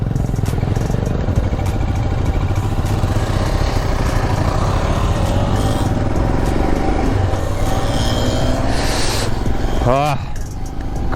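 A 2022 Royal Enfield Himalayan motorcycle cruises in third gear at about 60 km/h toward Nandi Hills, its engine droning loud and steady with wind buffeting throughout and a rider talking over it.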